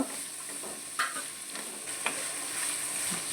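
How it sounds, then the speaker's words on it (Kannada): Chicken fried rice ingredients frying in a little oil over a high flame, a soft steady sizzle with occasional faint stirring scrapes and clinks, fairly quiet and with no talking. "ಇದನ್ನು ಸರಿ ಫ್ರೈ ಮಾಡ್ಕೊಳ್ಳೋದು ದೊಡ್ಡ ಫ್ಲೇಮಲ್ಲೇ ಇಟ್ಕೊಳ್ಬೇಕು ಫ್ರೈ ಮಾಡ್ಕೊಳ್ಳೋದು ಸ್ವಲ್ಪ ಎಣ್ಣೆಯಲ್ಲೇ ಫ್ರೈ ಆಗಬೇಕದು"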